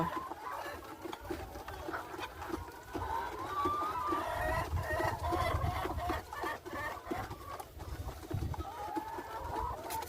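A flock of about a hundred egg-laying chickens clucks and murmurs steadily across the whole stretch, close by with a rustling, pattering background.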